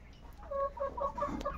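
Desi and layer hens on a poultry farm give a short run of soft, rhythmic clucks close by, over a low background hum.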